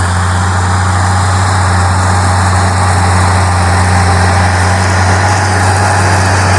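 A Ślązak 8190 tractor's engine, not its original Andoria unit, runs at a steady idle, loud and close, with a constant deep hum and no voices over it.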